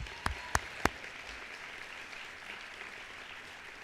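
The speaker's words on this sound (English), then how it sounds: "Please join me in another round of applause for Selena's inspiring presentation" Ceremony audience applauding at a doctoral hooding, three sharp, loud claps or knocks close by at the start, then a faint, steady wash of distant clapping.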